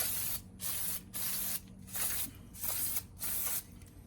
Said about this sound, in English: Let's spray the bolts just a little bit